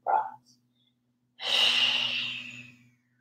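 Long, deep breaths during a yoga forward fold: a short exhale, a pause, then a sustained breathy rush that slowly fades, close and quiet against near silence.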